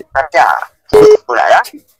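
A telephone tone sounds briefly as a short steady beep while dialing for a phone call, set between bursts of a man's speech.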